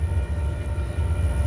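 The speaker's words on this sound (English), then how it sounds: "So there's another train coming like that way." A train rumbles nearby with a steady low drone and faint high metallic tones, a continuous mechanical hum with no voices.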